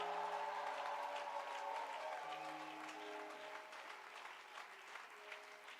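A church congregation applauds in praise, a steady dense clapping that stays even and moderately loud, with a held organ or keyboard chord ringing underneath.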